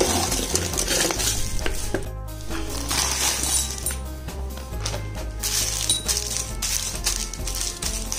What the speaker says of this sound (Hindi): अब हम चॉकलेट्स को अच्छे से मिक्स कर देंगे